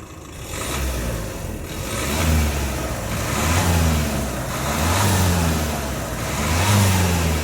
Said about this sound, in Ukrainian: Ну, два-три рази газнуть.